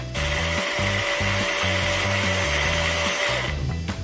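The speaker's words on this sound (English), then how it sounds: "Now you drill carefully 8mm hole." Power drill boring an 8mm hole in a KTM 690 fuel pump cover, a steady loud whirring grind with rhythmic low pulsing as the bit cuts, running close and continuous, with no talk.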